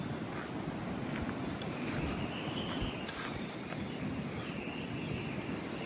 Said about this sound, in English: That wind, man.